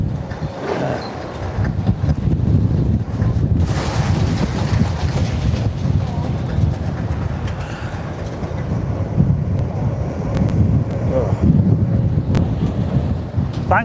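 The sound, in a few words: strong wind blowing at demolition site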